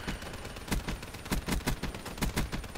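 Rapid gunfire in a video game, a string of sharp shots in uneven bursts, close and crisp against a low steady background.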